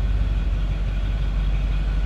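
A 1964 Ford Thunderbird's 390 V8 engine idles steadily with a deep, low rumble, loud and close, heard from the rear, with no voices over it.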